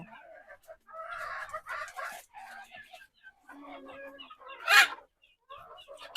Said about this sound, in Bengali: কিছুদিন ধরে বর্ণমালার বাবা বলছিল যে এই মোরগটা জবাই করে ফেলতে মানে খেয়ে নেওয়ার জন্য আমি বলেছি থাক দেখতে ভালো লাগে